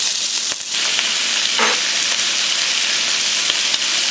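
Pork belly fries in a wok of hot oil for a Chinese braised pork belly with abalone dish, giving off a steady, loud, close sizzle with a few stirring scrapes and no talking.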